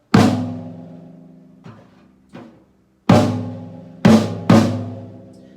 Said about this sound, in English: big tom, it sounds like this.